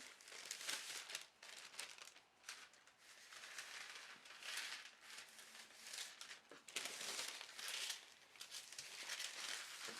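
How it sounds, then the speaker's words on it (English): Pattern paper being folded and creased by hand to mark a center point, giving a steady run of close, soft crinkling and rustling with a few sharper crackles, no voices. "Put a crease in the paper."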